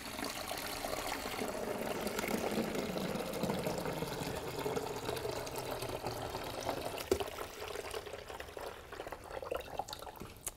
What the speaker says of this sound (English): you're going to add the water and vinegar mixture into the reservoir directly